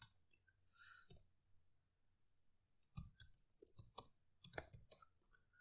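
Bursts of quiet, close clicking from a computer keyboard as a command is typed, sparse taps early and then quicker clusters of keystrokes after a pause, with no voices.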